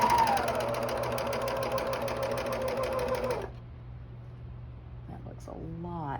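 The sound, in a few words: coverstitch sewing machine stitching with binder attachment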